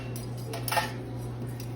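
Metal silverware clinks and rattles in a brief cluster of light handling as utensils are gathered up before being rolled into napkins, over a steady low hum in the room.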